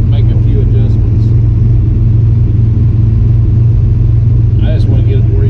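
A car rumbles past on the road with a steady low engine drone that stays loud throughout, heard close by outdoors near a running vehicle being tuned with fuel injection.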